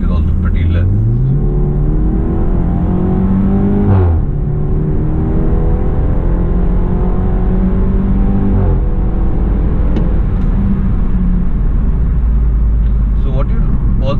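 A BMW F30 LCI 320i Luxury Line fitted with an Eibach anti-roll bar kit accelerates through a U-turn, its engine revving up and shifting in loud, rising steps from inside the cabin while someone talks over it.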